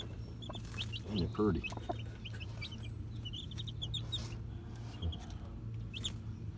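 Soft chirping and clucking from young three-way-cross chickens, scattered and steady over a low constant hum, with a brief spoken remark in the middle.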